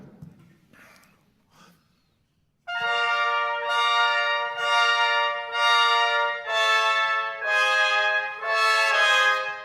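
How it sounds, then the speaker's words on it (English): Brass in an orchestral setting sounds a bright sustained climax passage from Stravinsky's ballet music, in loud repeated swelling blasts after a few seconds of quiet breathing and rustle. "The trumpets have this at a climax in part one."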